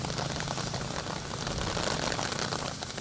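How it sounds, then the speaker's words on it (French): Heavy, pounding rain falls during an outdoor walking race in Benin, a dense, steady hiss of drops hitting surfaces that holds at an even level throughout, with no voices. "Sous cette pluie battante"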